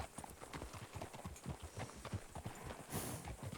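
Horse hooves in the Red Dead Redemption video game, a quick steady clip-clop at a trot on hard ground, close and fairly loud with no talk.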